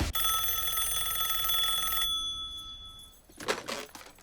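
A telephone rings with a bright, sustained electronic trill for about two seconds, then stops, leaving a quiet room before a brief rustle of handling.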